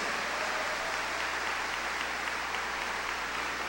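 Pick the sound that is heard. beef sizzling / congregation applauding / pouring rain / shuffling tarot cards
congregation applauding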